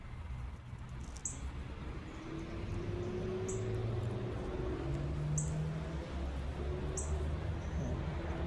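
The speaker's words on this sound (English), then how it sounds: "I love these birds, man." Small birds chirp in brief, high, evenly spaced calls over a steady low rumble of outdoor background noise, with no talking.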